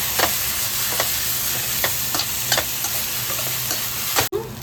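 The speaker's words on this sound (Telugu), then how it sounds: "మనం ముందుగా తరుగు పెట్టుకున్న ఈ మామిడికాయ తురుముని వేసుకొని బాగా ఉడకనివ్వాలి" Grated raw mango cooks in a pan with a continuous close sizzle, broken by a few soft scraping strokes of a spatula and a sharp clunk near the end.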